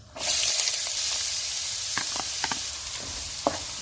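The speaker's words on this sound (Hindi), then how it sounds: "और प्याज को हम थोड़ा सा फ्राई करेंगे।" Steady sizzling of onion frying in hot oil for chicken kabsa, a loud continuous crackle with a few sharper pops and stirring scrapes scattered through it.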